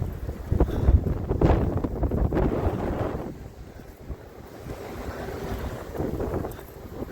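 Strong storm wind buffets outdoors during a Halifax snowstorm, a loud rushing roar that surges and eases in gusts with heavy wind noise on the microphone.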